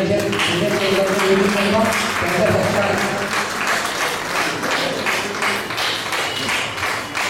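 An audience at a Vedic ashram ceremony in Indore claps loudly and steadily, a thick continuous burst of applause that carries on throughout, with voices talking beneath it.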